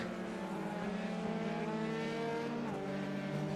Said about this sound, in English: Now we see also Andreas Unterbante coming around in the number 10 Ferrari